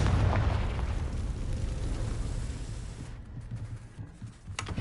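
Confringo blasting spell explosion in Hogwarts Legacy on PS5, a loud rumbling burst that rolls on and fades over several seconds, followed by a few fainter crackles.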